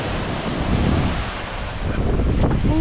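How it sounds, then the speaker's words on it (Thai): Waves roll onto the shore on a rainy day at the sea while strong wind buffets the microphone, a loud, continuous rumbling wash with no voices. "อันนี้คือทะเลสวเนตวันที่ฝนตก"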